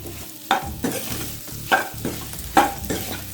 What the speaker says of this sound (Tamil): போட்டு ஃப்ளேம் ஹையில் வச்சு நல்லா ஒரு மிக்ஸ் கொடுங்க.